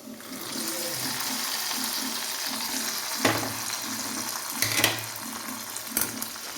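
Fried onion tempering is poured into a hot pan of jackfruit seed, mango and drumstick curry, a steady watery hiss with a few sharp splashes and clatters, no voices.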